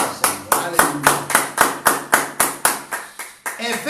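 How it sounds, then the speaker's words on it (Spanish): Congregation at a church service clapping in unison for the Lord, about a dozen sharp, evenly spaced claps in a steady rhythm, loud and ringing in the hall. "Dale un aplauso al Señor."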